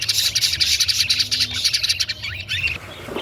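Breeding birds with the opaline mutation chirp and tweet in quick, overlapping bursts close by, a busy high-pitched chatter with a low background hum and no voices.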